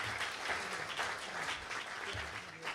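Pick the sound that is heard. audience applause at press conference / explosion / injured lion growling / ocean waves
audience applause at press conference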